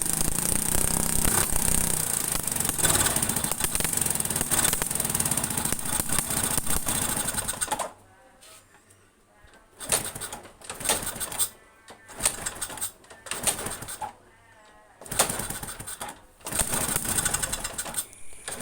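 Honda Astrea Legenda motorcycle with a rough-running engine, first a steady, close idle, then a string of short revving bursts broken by near-silent gaps.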